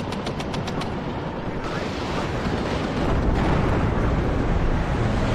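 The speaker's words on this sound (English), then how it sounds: "It's a good old Patton tank firing away." Tank cannon and gunfire from an M60 Patton in the WARNO war game, a dense continuous barrage of booms and rattling shots with sharp reports early on, loud and steady throughout.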